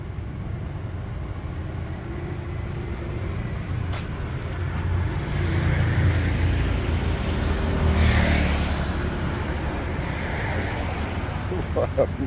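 A car engine hums steadily from inside while driving, a low continuous drone with road noise that swells slightly midway, loud and close, with faint talking at times.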